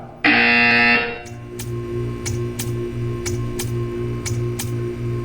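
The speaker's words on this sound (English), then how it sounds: "When you hear the buzzer, stare at the art." A loud, harsh electronic buzzer in Portal 2 blares for about a second, then a steady ticking with sharp periodic clicks continues over a low hum.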